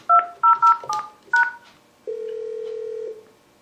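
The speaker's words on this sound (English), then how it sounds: "dial the person you want to join that call" On a Yealink office phone, several short DTMF keypad beeps are dialed in quick irregular succession, followed by one steady tone lasting about a second. The sounds are loud and close, and no voices are heard.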